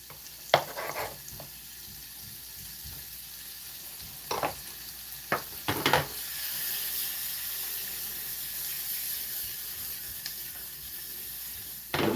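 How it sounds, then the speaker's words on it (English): Chopped onions sautéing in a pan over a gas flame give off a steady close sizzle, punctuated by a few sharp clinks and scrapes of stirring, with no talking. "I'm going to get my onions in."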